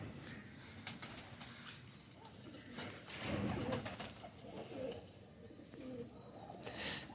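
A male pigeon of a fancy breed coos close by, low soft repeated coos rising and falling over a quiet indoor background.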